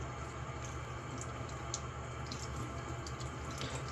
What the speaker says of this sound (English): Wash the container off